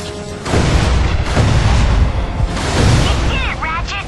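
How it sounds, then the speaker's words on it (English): Rockets burst from a modified launcher in Ratchet and Clank Future: Tools of Destruction, a loud continuous roar of booming blasts with a whistling streak near the end. "Modified to fire two additional rockets."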